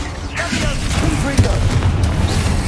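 Confringo blast spells exploding during combat in Hogwarts Legacy, loud continuous booming rumble and crackle with overlapping bursts, while a voice calls out spell names over the din.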